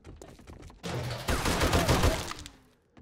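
Gunfire in 7 Days to Die, starting faint, then a dense loud burst of rapid shots that rolls on for about two seconds before tapering off, with no talk over it.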